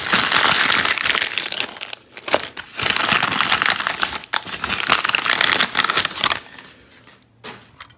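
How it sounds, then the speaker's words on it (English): A paper envelope is torn open and handled, giving continuous loud crinkling and ripping that runs for several seconds before fading to softer rustles near the end. "let's go ahead and pop open this envelope and see what's inside of this guy."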